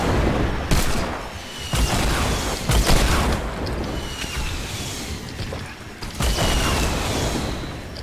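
Explosions and rapid bursts of gunfire in the Fortnite battle royale video game, loud, dense and continuous, with several heavy booming hits across the stretch.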